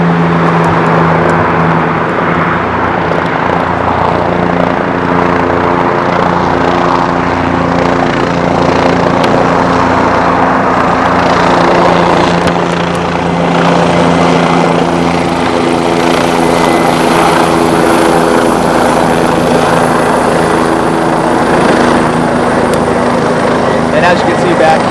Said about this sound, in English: police helicopters monitoring things from the air